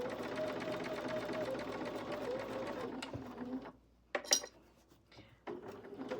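A sewing machine stitches a candle rug jar gripper with a rapid, steady whir for about three seconds, then stops, followed by a few sharp metallic clinks and handling sounds nearby.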